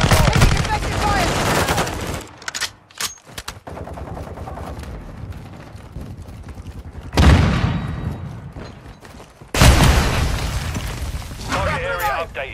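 Automatic gunfire rattles in rapid bursts with occasional booms during a Modern Warfare 2 Hardpoint match at Santa Sena Border Crossing. The loud, close volleys come and go in waves, with game voices talking over parts of the action.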